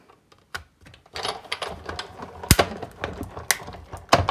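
A paper layered with an oval framelit die is cranked through a Big Shot die-cutting machine, making a series of irregular clicks and clacks from the roller mechanism, close and fairly quiet.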